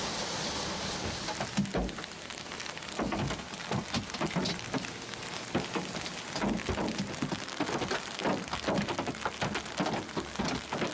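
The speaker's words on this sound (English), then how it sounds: "out of nowhere, hail started falling" Hail falling in a park during a storm, a dense, continuous patter of irregular impacts and sharp cracks, fairly faint and steady throughout, with no voices.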